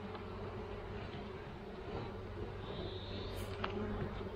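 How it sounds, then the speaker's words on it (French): Honey bees buzz around an open beehive during colony splitting, a dense continuous hum, close and steady, with faint background movement. "les abeilles sont super calmes, on n'a pas eu une seule attaque"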